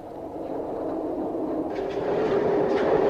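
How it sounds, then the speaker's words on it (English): A train brakes in step 3 while wheel slide protection blowdown valves at the head end actuate. Air releases give faint short hisses over a steady loud rumble of rolling stock. "WSP activity commences at the head end of the train, and we can hear the blowdown valves actuating."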